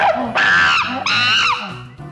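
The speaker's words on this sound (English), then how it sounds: "They eventually came across one particular sound, called Hollywood Edge Chimpanzee Screech" A Hollywood Edge library chimpanzee screech, two loud, harsh, pitch-bending shrieks in quick succession, close and alone, with a short lower grunt tailing off after them.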